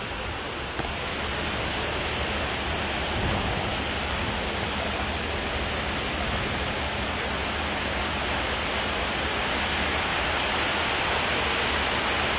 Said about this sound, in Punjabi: ਦੇਖ ਲਓ ਕਿੰਨਾ ਮੀਂਹ ਪੈਣ ਰਿਹਾ ਆ